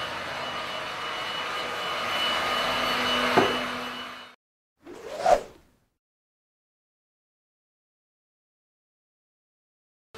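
Heat gun blowing on window tint film to shape it to the rear window of a Mazda CX-3, a steady close roaring rush of air for about four seconds that cuts off, followed by a brief knock and then silence.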